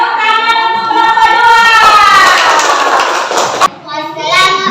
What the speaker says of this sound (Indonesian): beri dulu tepuk tangan untuk kelompok